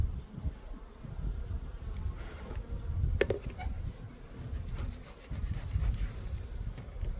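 Honey bees buzz around an open hive during a mid-spring inspection, a steady, close, low drone of many wings with soft wind noise and a few brief handling knocks.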